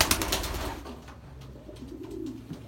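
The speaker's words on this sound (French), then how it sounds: "voilà le fameux Olympic Fire Eyes." A racing pigeon coos softly and close by, a low rolling call that follows a brief rustle of movement at the start, with no voices.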